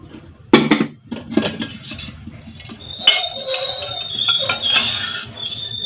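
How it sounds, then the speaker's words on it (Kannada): A cooking pot set down on a gas stove while preparing a red chutney, giving several sharp metallic clanks and knocks, then a steady hiss with faint ringing tones continuing to the end. "ಈಗಿದಕ್ಕೆ ಒಂದು ಪಾತ್ರೆ ಇಟ್ಕೊಂಡು"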